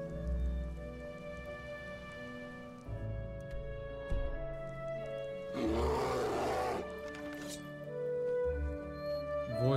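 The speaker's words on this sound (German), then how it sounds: "Das war aber auch ganz schön laut mit den Bären." Bears roar in the fantasy game Enderal, deep sustained growls layered over ambient game music, with a harsher, noisier roar burst near the middle, loud and close.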